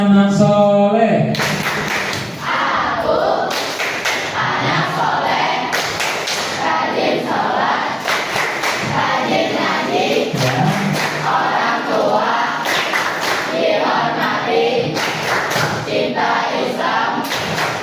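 A class of sixth-grade pupils performs the Tepuk Anak Soleh clapping chant in a classroom, sharp rhythmic claps and thuds repeating steadily under loud chanting voices for the whole stretch.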